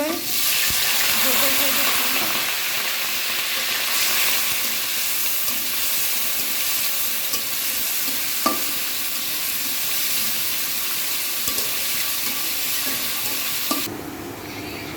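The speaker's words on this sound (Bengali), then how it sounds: "এই চুলায় মাছ ভাজি হচ্ছে" Fish frying in a pan on a home stove gives a constant dense sizzle and hiss close by, with occasional soft clicks and a slight drop in the noise near the end.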